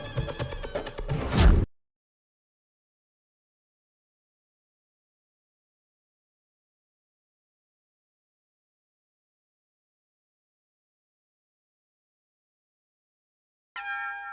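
A telephone rings, unanswered, in a scene from the Hindi sitcom Taarak Mehta Ka Ooltah Chashmah. A loud, close burst of ringing opens, then long silence, then the ring starts again at the very end.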